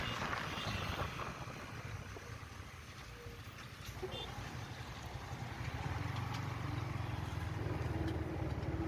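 A Yamaha MT15 motorcycle ridden fast on an open road, its engine a steady low drone under heavy wind rush, continuous and close for the whole stretch.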